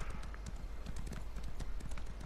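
Horse hooves clip-clopping at a steady brisk rhythm while riding through an open world in The Elder Scrolls Online, close and continuous over faint background ambience.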